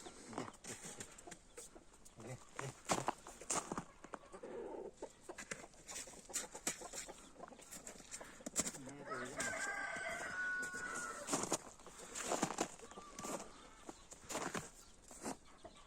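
A rooster crows once mid-clip while hens cluck around it, in a noisy outdoor yard with scattered rustling and knocks.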